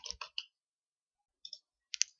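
Computer mouse clicks during setup of an Epson L4150 printer reset program: a quick burst of three or four sharp clicks, a pause, then a double click and another at the end, close and crisp with no talking.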